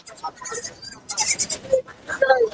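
Jamunapari goat kids bleat repeatedly at a busy village livestock market, several short cries rising over steady crowd chatter and nearby talking.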